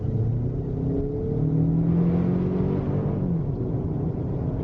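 A 2003 Toyota Camry LE accelerating hard from inside the cabin, a steady close engine drone with rising tones that climb, shift and climb again over several seconds.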